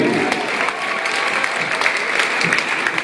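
Loud, sustained applause from a crowd at a high school ceremony honoring a former basketball player, dense clapping with scattered sharper claps and faint cheering throughout.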